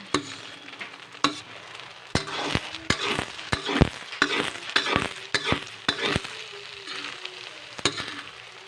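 Rice noodles and bean sprouts stirred and tossed in a frying pan for a pancit bihon sauté, with a steady sizzle broken by repeated sharp scrapes and clinks of the utensil against the pan, close and fairly loud.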